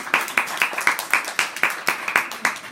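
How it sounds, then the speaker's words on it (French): Audience clapping at a readers' comic-book prize ceremony, heard as about a dozen sharp, evenly spaced claps at close range, steady and moderately loud, with no voices over them. "sous vos applaudissements, messieurs,"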